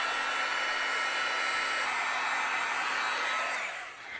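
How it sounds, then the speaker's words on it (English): A heat gun blows hard and steady as it melts embossing powder on paper tags, a close airy roar with a faint motor hum that fades out at the end, with no speech. "I'm going to use my heat gun and we'll melt all of these tags that have our embossing powder."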